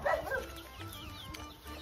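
A dog on a village farm yips and barks a few times up close at the start, then fades into quiet farmyard background with faint chirps.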